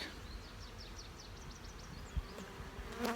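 A low, continuous buzz of many bees around a hive being raided by a bear, with faint chirping calls above and a soft thump near the end.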